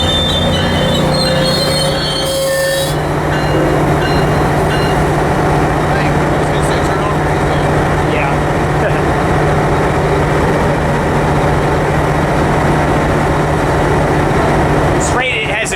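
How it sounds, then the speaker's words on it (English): A Metrolink commuter train pulls into Riverside station as a westbound freight approaches, with loud, sustained wheel squeal, rumbling railcars and a steady low engine drone close by, someone talking over the din. "as this Metrolink is coming in, we have another westbound freight coming towards the station"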